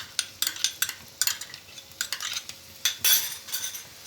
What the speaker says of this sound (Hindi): ये गरम तेल में मैं ये बारीक कटी हुई लहसुन डाल दूंगी।